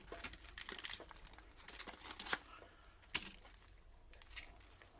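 Plastic packaging of a Wolfcraft drill clamp is opened close up, with faint crinkling, tearing and scattered sharp clicks and rustles coming in irregular bursts.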